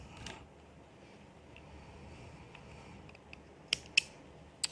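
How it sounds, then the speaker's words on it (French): Scissors snip thread flush on a star-shaped crocheted doily, three short crisp clicks near the end after a quiet stretch of faint handling noise, up close with no voices. "je vais pouvoir couper à ras"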